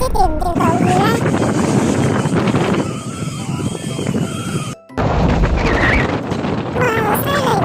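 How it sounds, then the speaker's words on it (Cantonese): On a fishing boat in heavy weather, with waves of two to three metres, strong wind and rain roar loudly against the microphone, with a brief dropout midway, while excited voices talk over the din. "好大風好大雨啊"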